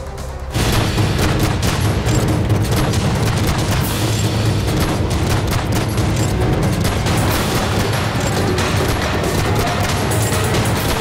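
Turkish military strikes in Iraq and Syria: heavy, continuous bombing and gunfire, dense booms and rapid bursts overlapping with no letup, loud and sustained for several seconds after a brief quiet start.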